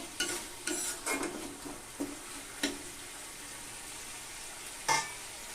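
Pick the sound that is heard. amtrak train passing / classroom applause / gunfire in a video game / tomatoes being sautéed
tomatoes being sautéed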